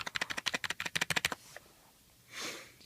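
Keys on a Blackweb gaming keyboard clack in a quick run of about a dozen close, crisp presses, followed by a short pause and soft rustling.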